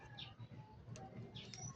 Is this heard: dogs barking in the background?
no